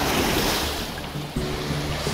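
Lake water washing against the shore at Inverhuron Provincial Park, a steady close rushing surge of small waves mixed with breezy wind noise, with no voices.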